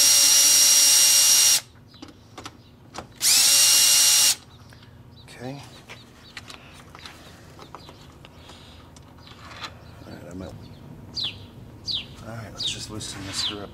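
Power drill whirring in two loud, steady bursts while backing a screw out of the intercooler on a 2016 Golf R MK7, then quieter clicks and handling noises follow with birds chirping faintly.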